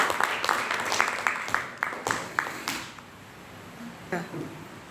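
A short burst of scattered hand claps in a classroom, a few sharp claps repeating for about three seconds before fading into room noise.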